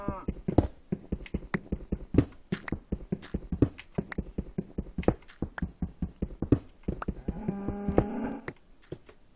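Cows moo in Minecraft alpha, layered with a rapid run of sharp clicking and tapping hits, then a clear drawn-out moo near the end, fairly close and alone without talk.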